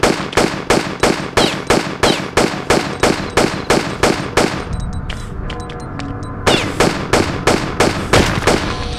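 Rapid bursts of gunfire from the Tomb Raider level editor game, a steady rhythm of loud repeated shots with a short lull in the middle before the shooting resumes.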